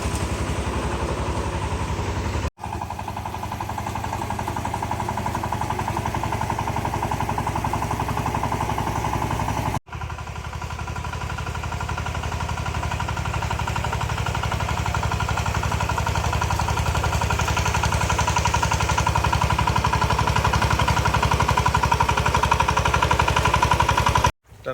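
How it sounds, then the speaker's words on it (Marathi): A tractor engine runs steadily at a rice paddy field during transplanting, a loud continuous low rumble with a rattling clatter that holds for most of the stretch, broken by two brief cuts. "बघा ट्रॅक्टर पण आलेला आहे आज"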